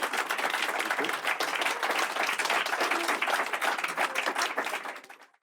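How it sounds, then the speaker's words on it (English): Applause from an audience for a panel of four at the close of a live business show, a steady dense clatter of many hands that carries on for several seconds, then fades out quickly at the end. "Massive round of applause for you guys."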